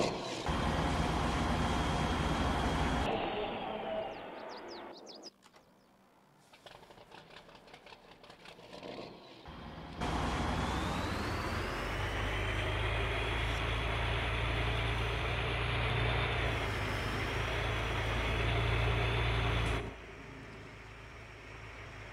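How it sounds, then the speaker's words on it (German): Custom engine sound of a Raba 180 tractor in Farming Simulator 22, a steady droning idle and run with a short dip partway through, then a sustained, slightly rising engine note that holds loud until near the end. "Hören wir uns mal den Sound an."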